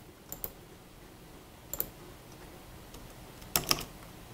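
Computer keyboard keys clicked while playing Minecraft on a Raspberry Pi, a few quick presses in small clusters, close but quiet against a faint background.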